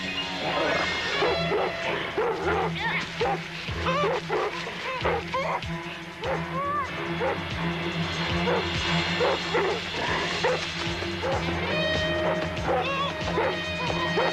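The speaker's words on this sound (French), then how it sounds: "Faites taire ce chien!" A dog barks and yaps repeatedly amid a busy, noisy scene in a French spy-action television series, with whimpering yelps mixed in, loud and close throughout and a voice faintly present beneath.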